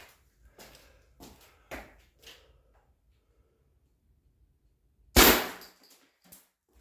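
An Umarex HDR68 CO2 shotgun fires a homemade shotgun shell as one sharp, loud close blast, followed by brief scattered pattering. A few faint short knocks come before it in a quiet room.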